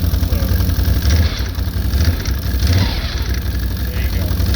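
A 2012 Can-Am Outlander 1000 XT ATV engine runs steadily at a low idle after starting, a loud, continuous, rumbling drone close by.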